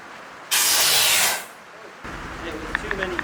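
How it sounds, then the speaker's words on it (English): A Cheetah Blaster air bead seater fires a sudden loud blast of air into a 37-inch tire, a roaring hiss lasting about a second before tapering off; faint clicks and voices follow. "he has a Cheetah Blaster, which is this thing that basically shoots air in really quick"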